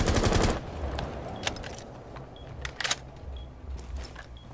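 Bursts of rapid gunfire from a shooting video game crackle loudly in a sustained opening volley, followed by scattered individual shots and short rattling bursts over a noisy background.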